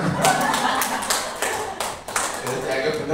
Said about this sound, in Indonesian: Nah, wes tepuk tangan semua.